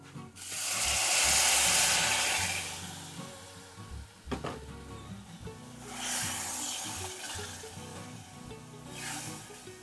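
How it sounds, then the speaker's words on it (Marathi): Hot water poured into a tinda (round gourd) curry frying with goda masala in a pan. Two loud, hissing surges of sizzle rise and fade, each lasting a couple of seconds, with quieter bubbling between them. "आता मी याच्यात गरम पाणी घालणार आहे."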